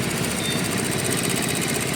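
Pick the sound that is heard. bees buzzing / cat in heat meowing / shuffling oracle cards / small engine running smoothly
small engine running smoothly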